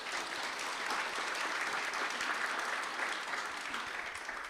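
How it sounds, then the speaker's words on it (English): Conference attendees at a dementia event give sustained, moderately loud applause, a continuous patter of many hands that tapers slightly at the end. "so big round of applause to you."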